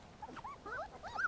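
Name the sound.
abandoned puppies whimpering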